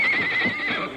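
A horse whinnies loudly and sustained through the full second as it stumbles and falls on rough canyon ground, with faint hoof clatter beneath, no voices.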